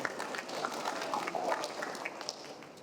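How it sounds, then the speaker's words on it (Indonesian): A crowd at a university graduation ceremony claps faintly and unevenly for a few seconds, with scattered individual claps heard at a distance. "Tepuk tangan dulu."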